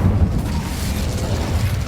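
A sustained low, rumbling burst of magic fire in Hogwarts Legacy, heavy and steady for its whole length with a crackling, booming texture and no talk over it.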